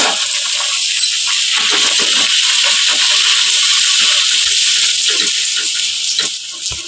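Puris frying in hot oil give a steady, loud, close sizzle and hiss that runs without pause, with faint crackles scattered through it.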